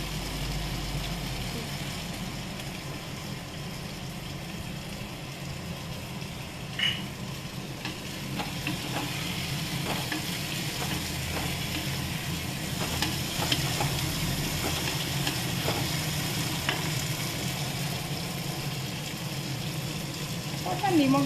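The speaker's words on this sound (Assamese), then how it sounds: "এই ফ্ৰাই পেনখনত আমি পনীৰখিনি লৰাই লওঁ" Paneer cubes sizzle steadily in oil in a frying pan, with occasional scraping stir strokes and light clinks against the pan over a long, even frying hiss, while a voice talks at times.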